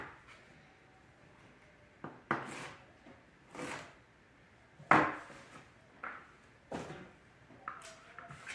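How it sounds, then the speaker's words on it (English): A knife rough-chops an onion on a board in a home kitchen, with sparse, irregular chopping thuds separated by pauses, close and moderately loud. "Now I'm just gonna rough chop this onion."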